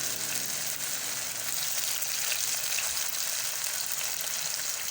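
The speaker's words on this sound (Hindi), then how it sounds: "हमने यहाँ फ्राई पैन चूल्हे पे चढ़ा दिया है, उस पे हमने फ्राइज़ जो हैं वो फ्राई करने शुरू कर दिए" Potato fries frying in a pan on a village stove give a steady, close, even sizzling hiss that holds without a break, with no voices.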